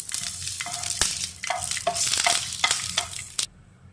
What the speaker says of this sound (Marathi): आता आपण मिरची भाजून घेऊ।